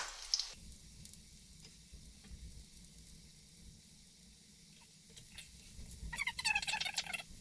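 Chickpea flour (besan) pancake frying in a pan, a soft steady sizzle throughout with louder crackling bursts near the start and end, no voices.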